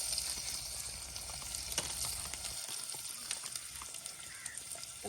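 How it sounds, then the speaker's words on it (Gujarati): Onion and green chili tempering crackles and sizzles in hot oil outdoors at a farm party, a continuous close frying hiss with scattered pops and no talk. "મસ્ત વઘાર થઈ રહ્યો છે"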